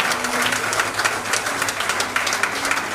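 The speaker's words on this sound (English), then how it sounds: "Let's give our graduates a round of applause again." Steady, moderately loud applause from an audience at a graduates' reception for special-needs students, with many hands clapping continuously and evenly throughout.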